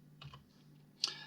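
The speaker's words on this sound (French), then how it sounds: "J'enfonce la touche Shift de mon clavier" A computer keyboard is pressed during SketchUp modelling work: two quiet clicks early on, then one sharper, louder keystroke, close up over a low steady hum.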